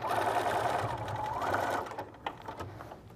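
Sewing machine stitching a quilted lining closed, a steady whirring run close by for nearly two seconds, then stopping into a few light clicks and handling sounds.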